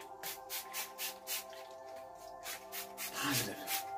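Lavender spray is misted from a pump bottle in a steady rhythm of short hissing bursts, about a dozen close puffs over a quiet hum.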